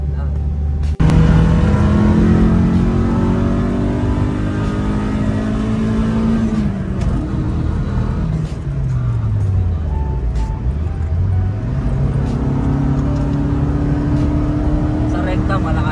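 The engine of a stock Subaru Forester revs up and down close by, its pitch sweeping high, dropping low and climbing again in several long pulls, with people talking over the steady engine drone.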